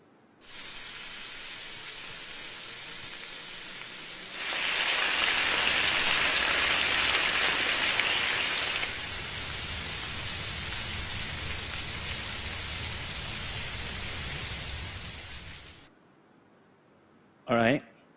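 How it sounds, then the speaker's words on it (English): Bacon frying in a pan, a dense continuous sizzle like rainfall that swells louder midway and then settles, close and steady before cutting off near the end. "instead of the sound of rain, I've added the sound of bacon frying"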